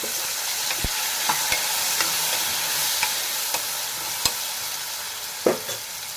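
Brinjals and green chillies fry in a pan with a constant bright sizzle, while a spatula knocks and scrapes at irregular intervals, close and moderately loud.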